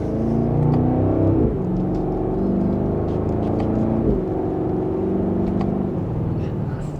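A 2026 BMW X5 M60i in Sport Plus mode accelerates hard in second gear, its engine note rising steadily and loud from the cabin, dropping briefly at a shift before climbing again.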